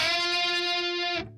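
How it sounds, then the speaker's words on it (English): A single sustained, distorted electric guitar unison bend on F from a solo rings out with two pitches merging into one, holding steady for about a second before cutting off. "That's a unison bend."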